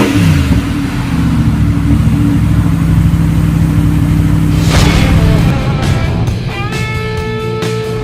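A 2014 Audi R8 Coupe engine revs loud and close, holding a steady low drone before climbing sharply in pitch around the middle, then settling into a rising higher-pitched whine as it accelerates.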